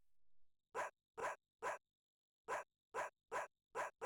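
A dog in the video game Bad Street Brawler gives eight short, sharp barks in two clusters: three quick ones, a pause, then five in a faster run. The barks are loud and close, with silence between them.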